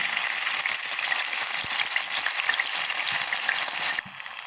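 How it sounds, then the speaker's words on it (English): Steady loud sizzling of tomatoes frying in hot oil, continuous crackle close up, dropping off abruptly near the end. "So now I'm frying my tomato."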